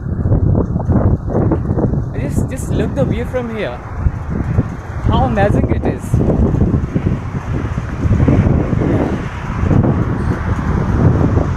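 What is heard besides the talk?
wind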